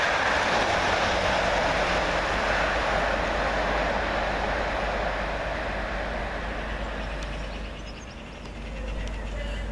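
Class 321 electric multiple units pass through Goodmayes railway station on a misty, hazy day, giving a loud, steady broadband rumble and wheel noise that fills the whole stretch before easing slightly near the end.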